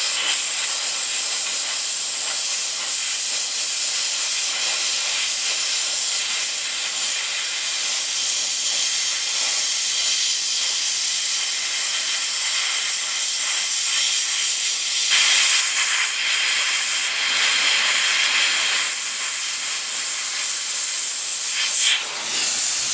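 A hot air plastic welder is used to repair a round headlight grille on an Isuzu Trooper, giving a loud, continuous airy hiss that stays close and steady throughout, briefly brightening in the later part.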